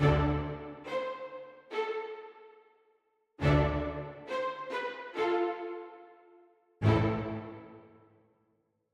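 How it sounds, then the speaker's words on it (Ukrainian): Staccato chords in a hip-hop beat, several short clipped piano-like hits, each with a small melodic top line and a ringing decay, separated by gaps. Loud and close, with no talking. "Моїм наступним елементом є стакато, яке звучить ось так."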